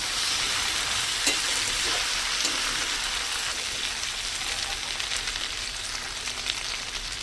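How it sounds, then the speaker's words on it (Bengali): Mixed vegetables fry in a pan for a village-style vegetarian dish, giving a steady, close hiss and crackle with a few soft stirring knocks near the start, with no talking. "আর দেখো আমি এগুলো ভাজ কষাচ্ছি"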